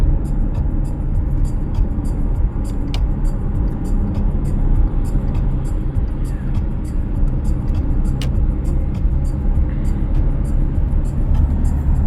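Steady road rumble from inside a Volkswagen Touareg on a highway, a constant low roar of engine and tyres with faint ticking over it.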